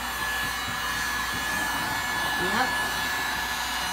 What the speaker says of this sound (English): It's a mega hair dryer, blow dryer.